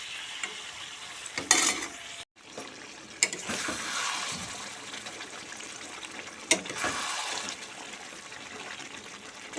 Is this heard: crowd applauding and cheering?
no